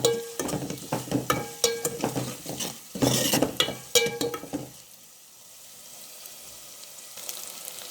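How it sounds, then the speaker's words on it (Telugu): Ginger garlic paste and onions sizzle in hot oil as a spoon scrapes and stirs the pan in quick clattering strokes, then the frying settles into a soft, steady hiss. "జింజర్ గార్లిక్ పేస్ట్ ఆనియన్స్ అన్నీ ఫ్రై అవ్వాలి చక్కగా"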